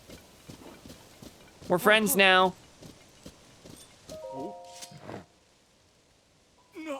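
Horse hooves in Zelda: Tears of the Kingdom clop in a quick patter beneath game music, with a loud horse whinny and someone talking over it.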